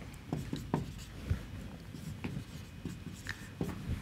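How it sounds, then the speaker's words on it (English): Pen or chalk strokes scratch across a writing surface in short bursts, working out modular arithmetic, close and fairly clear with no talk. "So, I will write something like this."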